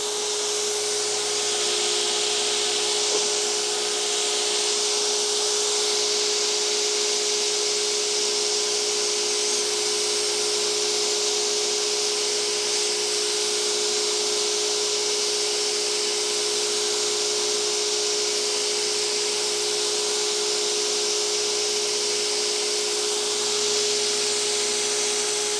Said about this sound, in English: I'll go ahead and make a few passes on the grind